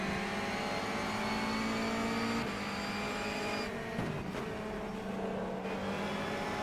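Honda touring car engine in rFactor 2 during an NGTC race, a loud sustained high-revving drone with a shift in pitch partway through and brief changes as the car works through corners.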